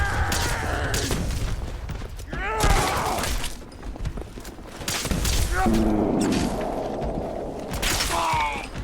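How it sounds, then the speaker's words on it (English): An enemy airstrike in the Fallout 4 video game brings a rapid barrage of loud explosions and gunfire booms, with rumbling impacts and crackling debris. Voices shout over the blasts. "Enemy airstrike! Get down!"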